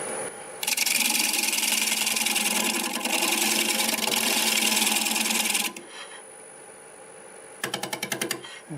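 A scraper cuts across a large English walnut turning spinning on a wood lathe at about 600 rpm, making a loud, steady rasping whir that stops abruptly, followed by a quieter motor hum and a short burst of chattering scrapes.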